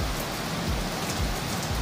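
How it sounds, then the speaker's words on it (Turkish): Heavy rain shower pouring steadily in Erbaa, Tokat, a dense continuous hiss of rainfall striking surfaces, close and even throughout with no voices. "Yağmurun inceliğini şöyle alalım."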